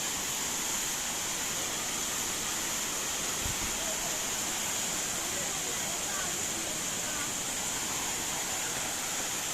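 Rushing water at Thirumoorthi waterfall pours in a dense, continuous hiss that fills the whole stretch, steady and fairly close.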